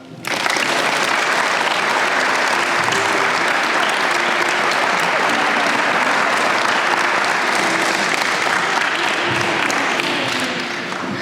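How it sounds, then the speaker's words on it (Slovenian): A gathered crowd gives paralympian Franček Gorazd Tiršek a long round of applause. The sound rises sharply, then holds as a dense, even wall of clapping for about ten seconds before easing slightly at the end. "tako da mogoče za začetek najprej kar pozdravite njega z enim aplavzom"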